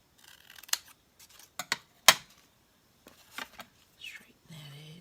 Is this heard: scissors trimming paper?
yes